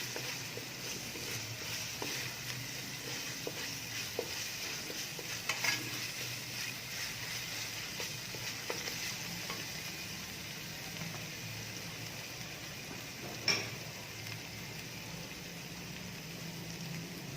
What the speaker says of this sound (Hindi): मैंने देसी घी के अंदर ये अदरक लहसुन को भूनना शुरू कर दिया